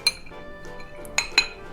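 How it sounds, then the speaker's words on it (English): A large skull-shaped ice cube drops into a rum cocktail glass during the making of a cherry Cuban Old Fashioned, giving a couple of faint, sharp glassy clinks and knocks in a quiet room. "I'm going to drop that right in the glass."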